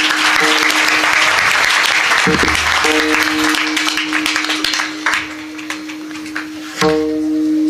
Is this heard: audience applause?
yes